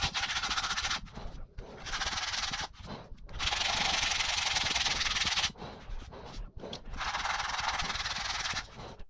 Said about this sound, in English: then sand with 150 grit sandpaper until the surface is smooth